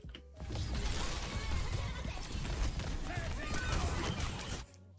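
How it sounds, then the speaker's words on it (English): Enemy footsteps in Overwatch come through as rapid, continuous clattering steps and mechanical clanks, loud and close for several seconds before cutting off abruptly. "Listen for footsteps that aren't our own, right?"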